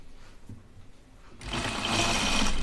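A sewing machine understitches the seam allowance to the facing of a striped sweater. It starts about halfway through and then runs as a steady, fast mechanical whir, up close and without talk.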